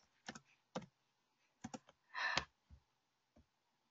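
Someone typing on a computer keyboard, a few scattered clicks and one short burst of rapid keystrokes, close and fairly quiet, with silence between them.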